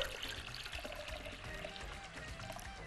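Water poured from a cup during home cooking of pickled cabbage, a steady splashing pour running continuously and fairly close throughout, with no talk over it.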